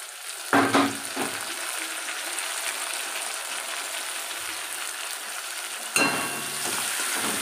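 Fried fish sizzling steadily in a pan, with a louder burst as tomato and ginger paste goes in, then a second surge near the end; a continuous hiss with occasional stirring clatter.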